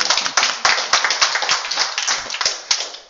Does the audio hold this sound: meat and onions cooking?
no